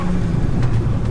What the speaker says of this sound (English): Listen to the induction noise.